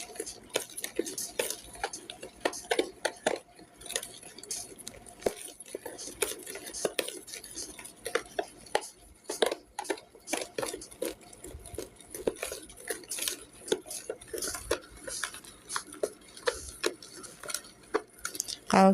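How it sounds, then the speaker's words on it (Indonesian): Liquid soap mixture being stirred in a container, giving soft, irregular scraping and clinking strokes that run continuously and fairly faintly for the whole stretch. "kalau kita aduk seperti ini, aduk sampai benar-benar tercampur semuanya"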